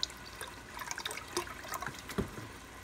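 Vegetable broth pours into a pot already holding crushed tomatoes and softened vegetables for a lentil enchilada pasta, making a quiet, brief splash and trickle of liquid with a few small drips.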